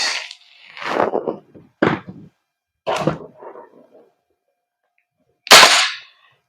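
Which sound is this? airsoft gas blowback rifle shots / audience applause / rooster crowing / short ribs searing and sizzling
airsoft gas blowback rifle shots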